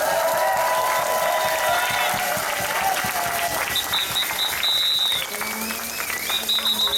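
Crowd at an outdoor march against emergency measures in Trois-Rivières applauding, a steady wash of clapping with some cheering and whistles, fading slightly near the end.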